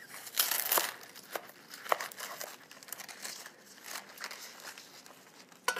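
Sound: knife cutting a big head of romaine lettuce lengthwise

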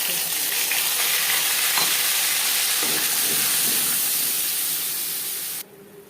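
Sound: panch phoron and bay leaves frying in oil

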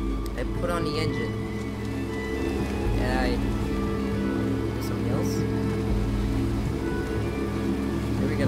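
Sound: boat engine running in video game Unravel

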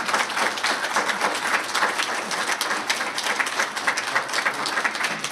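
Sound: audience applause

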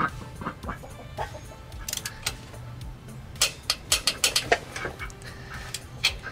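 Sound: duck quacking

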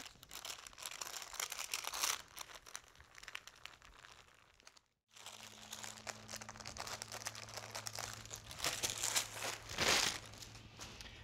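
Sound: parchment paper peeled off a rolled sponge cake

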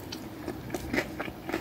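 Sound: biting into Zaxby's chicken tenders

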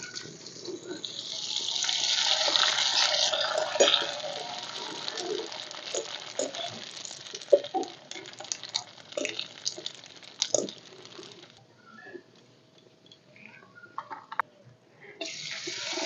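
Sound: rice papads frying in hot oil

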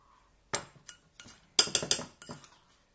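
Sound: mixing speculoos crumbs and butter in a bowl

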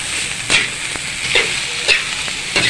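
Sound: stirring food in a pan until it fries

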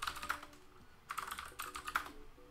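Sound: loud computer keyboard typing

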